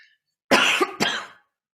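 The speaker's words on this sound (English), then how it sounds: "Nobody likes to see anybody cough in this day and age." A single dry cough from an adult, bursting out in two close harsh pulses, near and loud against a quiet room.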